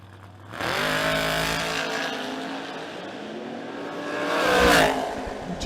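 A 1970 GMC at a drag strip launches and roars down the track, a loud, close engine surge that holds, dips slightly, then swells again with a higher-pitched wail near the end.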